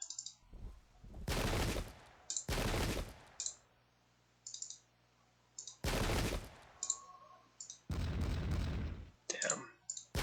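Musket volleys from the Pike and Shot video game at Ramillies 1706, several loud crackling bursts of massed fire, each lasting under a second, separated by quieter gaps with short clicks.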